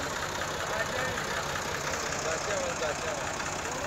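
A small IMT tractor engine runs steadily and close by, a continuous low rumbling chug with a slightly knocking texture and no breaks, loud throughout the clip.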